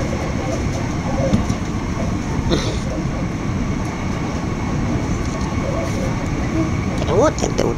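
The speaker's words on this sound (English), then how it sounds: "We're on the first cheap day train." Interior of a passenger train running to London Victoria, a continuous rumbling ride noise with brief clunks and squeals from the track, while people talk over it.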